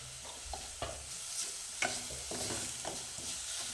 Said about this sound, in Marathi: कच्च्या आलं लसणाचा वास तो निघून जाईपर्यंत आपल्याला हे परतून घ्यायचं आहे